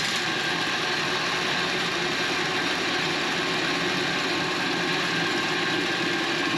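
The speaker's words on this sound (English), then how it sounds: "Got that belt on the old belt sander here from Harbor Freight that I picked up used." A used Harbor Freight belt sander runs in a tin-roofed shed, giving a steady, even mechanical whir with a faint rattling texture that holds unchanged throughout, close and fairly loud, with no voices.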